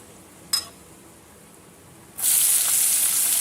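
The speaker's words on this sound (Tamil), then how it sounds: "இப்போ வெங்காயம் சேர்த்துடுறேன்" Chopped onion hits a hot pan for Tamil usili upma with browned dal, bursting into a loud, steady sizzle that fills the rest of the clip after a brief clink and quiet lead-in.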